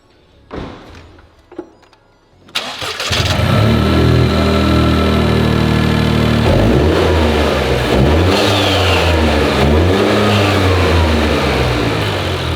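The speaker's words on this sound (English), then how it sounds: "We are about to start the car up with the MST intake. Let's hear it." A couple of thumps, then a Toyota GR Corolla engine fitted with an MST Performance intake cranks and fires up loudly, settling into a throaty idle with several rising and falling revs.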